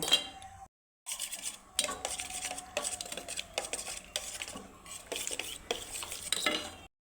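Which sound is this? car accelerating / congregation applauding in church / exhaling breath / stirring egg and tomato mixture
stirring egg and tomato mixture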